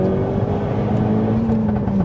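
Ford Focus RS with a Mountune big-turbo upgrade pulling hard in third gear, a loud, steady engine drone with a slowly rising and shifting tone close to the microphone.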